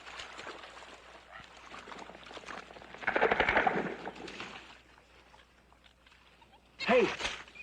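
Film-scene gunfire as jittery guardsmen shoot blanks at an unseen enemy: scattered crackling shots build into a dense, loud burst midway, with another sharp volley near the end.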